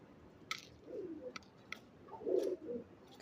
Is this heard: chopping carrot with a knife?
no